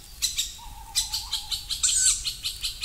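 Tawny owl chick calling in an old forest, giving repeated thin, high wheezy begging calls at a steady pulsing rhythm, fairly faint and distant with other bird chirps mixed in.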